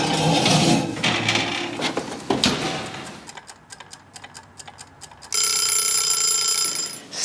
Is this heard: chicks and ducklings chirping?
no